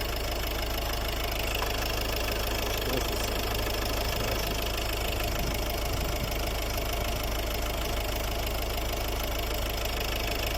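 A car engine idles steadily during an alternator and battery check with a handheld tester, a constant close, loud mechanical hum with a faint ticking knock and no speech.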